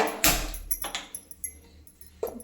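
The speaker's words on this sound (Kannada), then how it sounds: "ಇಲ್ಲಿ ಇವಾಗ ಗ್ಯಾಸ್ ಸ್ಟವನ್ನು ಅಂಟಿಸ್ಕೊತಾ ಇದ್ದೀನಿ." A gas stove is lit in a home kitchen: a few sharp, close clicks and metallic taps ring out separately against a quiet room.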